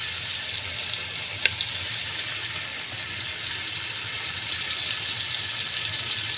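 Vermicelli roasting in ghee with a little turmeric, a steady soft frying sizzle with faint crackle that runs unbroken throughout and is heard alone.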